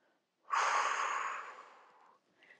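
One long, audible breath is drawn in a quiet room during a yoga floor sequence for the abdominals, close and steady for nearly two seconds before fading.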